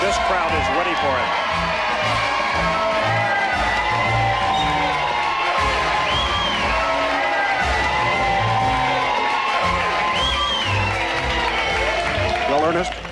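A large, excited crowd at Disneyland cheers and whoops without a break throughout, close and loud, with a voice talking over the din.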